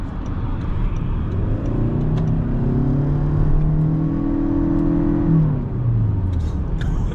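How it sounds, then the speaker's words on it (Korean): A Toyota Crown hybrid's engine revs up and accelerates, its pitch rising steadily then dropping off near the end, loud and close with a smooth whirring tone. "엔진 음도 좀 많이 넘어오면서 좀 엔진이 용 쓴다는 느낌이 확실히 나긴 하는 것 같아요"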